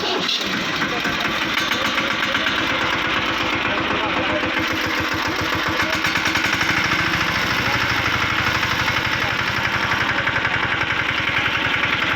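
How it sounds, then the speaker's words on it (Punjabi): A small tractor engine (215/125 model) sputters to life on its self-starter, then settles into a steady, loud, knocking idle that runs continuously and close, with a voice talking over it. "ਬਹੁਤ ਹੀ ਸ਼ਾਨਦਾਰ ਟਰੈਕਟਰ ਜੀ ਬਹੁਤ ਵਧੀਆ ਮੈਂ ਸਲਫ ਮਾਰ ਕੇ ਦਿਖਾਈ ਹੈ ਜੀ"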